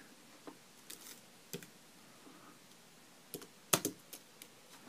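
Keyboard keystrokes entering a node name in texturing software, a few scattered clicks followed by a denser burst of typing, close and fairly quiet with no talking.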